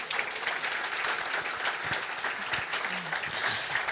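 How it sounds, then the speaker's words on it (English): Applause from a conference audience for the co-host at a tech design event in Zurich, dense and steady clapping throughout with faint voices mixed underneath. "So round of applause for him, please."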